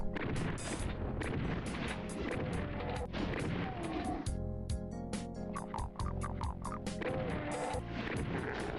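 Shotgun blasts in the first-person shooter DOOM II on Xbox, many sharp repeated shots in quick succession over dense, loud game music and effects.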